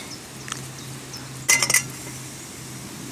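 A Trangia camping stove pot clanks into place at a trail cookout: a brief, close cluster of metallic clinks over quiet outdoor background.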